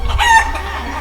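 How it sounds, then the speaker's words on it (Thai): A chicken clucks loudly and close up in a single brief burst with a crowing edge, heard on its own with no talk, in a Thai short film scene where a chicken is about to be scalded with hot water. "เสียงไก่ที่ไหนอ่ะ"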